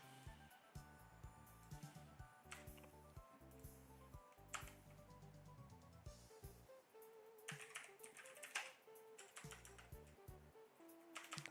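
Computer keyboard typing runs continuously through the clip with quick irregular clicks in bursts, close and fairly loud, over low background sound and with no speech.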